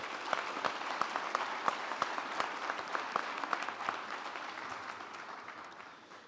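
Audience at a graduation ceremony applauding valor award recipients, sustained crowd clapping in a large hall with regular sharp nearby claps standing out, slowly tapering off.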